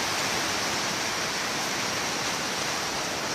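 Rainwater leaks into a workshop on a stormy day and flows in. It makes a dense, steady rushing wash with no breaks, loud and close.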